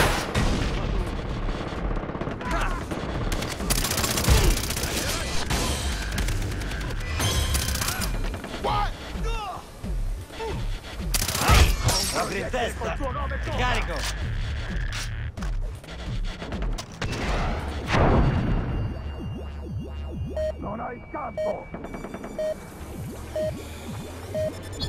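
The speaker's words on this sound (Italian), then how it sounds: "Lancio razzi là." Rocket launches and gunfire in the co-op shooter Far Cry 3: dense, continuous volleys of shots with booming blasts crowd the whole stretch, loud and busy throughout.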